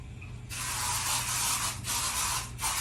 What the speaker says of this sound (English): I need more than this type of spray.